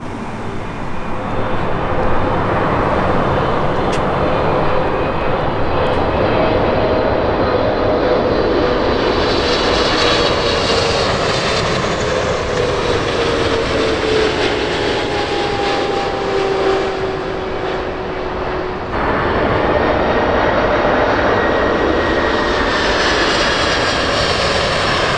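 A Boeing 747 airliner passes overhead near Geneva, its loud, steady jet roar sustained for the whole stretch, with a slowly shifting engine whine gliding across and a brief dip before swelling again.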